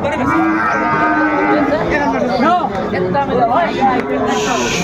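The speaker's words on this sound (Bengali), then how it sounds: "কেমন দামে শাহিওয়াল জাতের ষাঁড় বাছুর গরুগুলো বেচাকেনা হচ্ছে আমরা সে তথ্যটাই দেব" Sahiwal bulls and calves bellow and moo at a busy traditional weekly cattle market in Dinajpur, several drawn-out calls rising over a steady murmur of nearby buyers and sellers talking.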